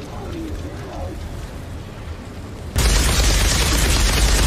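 Outriders video game gunfire from a weapon that refills its ammo on kills, starting abruptly partway through as a loud, dense burst of rapid shots after a quieter stretch of low ambient noise with faint bird-like chirps.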